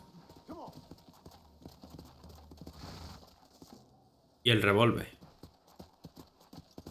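Horse hooves clip-clop in the Red Dead Redemption Undead Nightmare video game as a steady, fairly quiet run of beats under a voice, with a brief loud burst partway through.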